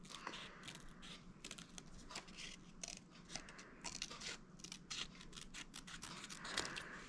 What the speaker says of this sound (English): you can take your scissors and following the line, you can cut your thumb shape out of the paper